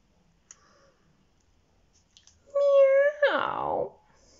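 A voice imitates a cat's meow, one drawn-out rising and falling cry, close and clear after a quiet stretch with a few small clicks.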